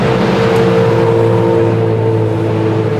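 A Radical SR3 race car's engine drones at a steady loud, sustained pitch at a track day at Zolder, with a constant mechanical roar and no voices.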